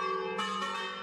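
A single ringing bell-like tone sustains and slowly decays at a low level, with a second soft strike partway through, suggesting a doorbell chime in a quiet room.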